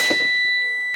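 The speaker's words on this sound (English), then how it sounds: "Light and buzzer or alarm, whichever you want to use" A truck cab's low air pressure warning buzzer sounding during an applied brake test, a steady, piercing electronic tone held continuously for the whole moment, with no speech over it.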